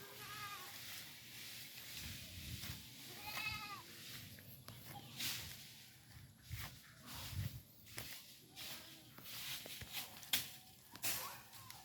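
Goats in a pen on a Philippine coconut farm bleat now and then at a fair distance, their calls scattered among shuffling, rustling hooves and faint background noise, with no clear speech.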